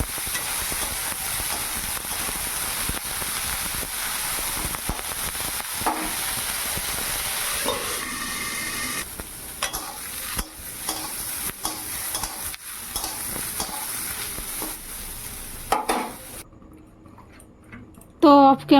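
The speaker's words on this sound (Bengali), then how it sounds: "আর এই যে এখন ফুলকপিটা দিয়ে দিলাম, লবণ হলুদ দিয়ে ভালো করে ভেজে নেব।" Cauliflower frying in oil with salt and turmeric in a wok, giving a steady sizzle with repeated stirring and scraping, with a person talking over it for much of the time.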